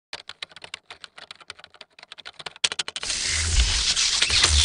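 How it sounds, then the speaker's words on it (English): Computer keys are mashed at random in a quick, uneven run of close, sharp clicks. About three seconds in, the typing gives way to a sudden loud, harsh burst of electronic noise. "What if I just keep pressing random keys?"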